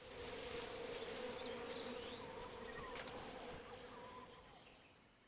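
Bees buzzing in the video game Metal Gear Solid Delta: Snake Eater, a continuous, moderately close droning hum with faint bird chirps, gradually fading out.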